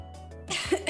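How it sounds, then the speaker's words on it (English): A single rough cough, close and abrupt, after a brief quiet hum. "I'm so sorry for coughing like that."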